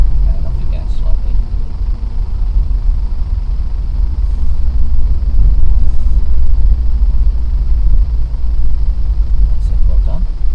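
A car engine rumbles low and steady from inside the cabin as the driver eases gently onto the accelerator, with constant road and motor noise throughout.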